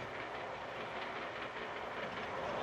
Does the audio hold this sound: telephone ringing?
no